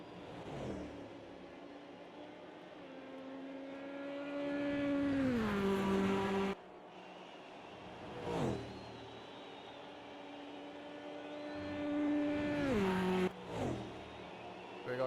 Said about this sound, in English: he was downshifting pretty hard there